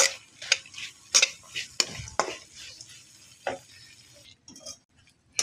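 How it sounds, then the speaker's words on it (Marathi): Cashews and almonds being stirred in a pan over a low flame while they roast, a spatula scraping and clinking in irregular strokes with a soft sizzle underneath, close and moderately loud. "हे बघा आपले हे काजू बदाम आता चांगले परतून झालेले आहेत."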